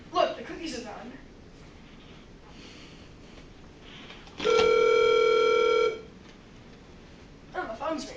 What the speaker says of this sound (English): phone's ringing too.